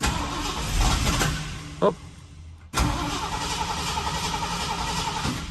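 1960 Ford F-100 pickup with a 351 V8 cranking to start, a loud rough churning that cuts out briefly before cranking again, with a short spoken exclamation.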